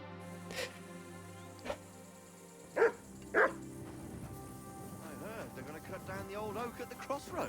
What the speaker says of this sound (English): Good dog, Miles.